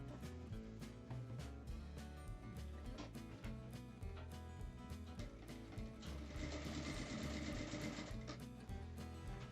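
A sewing machine runs steadily, stitching a seam along the edge of a fabric sack bag. The needle gives a fast, even mechanical chatter that stays close and continuous, then gets louder and brighter toward the end.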